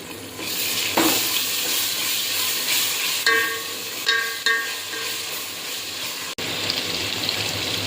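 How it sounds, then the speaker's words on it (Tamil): Ginger garlic paste sizzling and frying in a pan with browned onions, a steady crackling hiss with occasional stirring scrapes and clinks throughout, close and fairly loud. "இப்போ இஞ்சி பூண்டு பேஸ்ட்டு போட்டுருவேன்."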